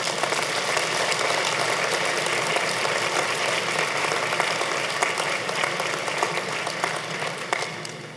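Audience applause at a university fall convocation ceremony, steady dense clapping from a large crowd filling the hall, sustained evenly and tapering slightly at the end.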